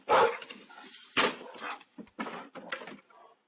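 A dog barks in loud, close bursts, then whimpers and yips in shorter, fading calls, with no voices over it.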